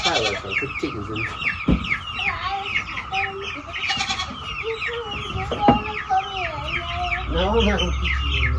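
Farmyard chickens cluck and chatter close by in a dense, overlapping stream of short calls, with an occasional longer squawk and background bumps.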